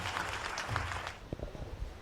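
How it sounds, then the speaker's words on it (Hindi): Audience applause welcoming Dr. Nikhil Chauhan at a Hindi poetry gathering, a dense wash of clapping that thins into a few scattered, sharper claps toward the end. "एक बार जोरदार तालियों के साथ"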